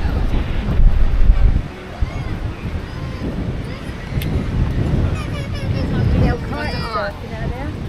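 Wind buffets the microphone over the rolling wash of surf on the beach beside Cromer pier in Norfolk, steady and fairly loud throughout with a stronger gust at the start.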